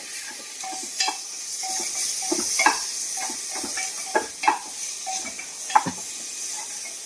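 Onion goes into a hot pan for chicken soup. A quiet sizzle sits under a series of scraping and clinking stir strokes and small pops, scattered irregularly throughout.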